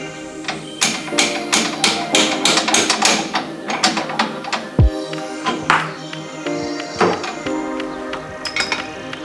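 Wrenching on the upper suspension arm of a Jeep Cherokee XJ at the axle: a quick series of close ratcheting clicks and metallic taps, then a heavy thud followed by scattered clinks and clanks.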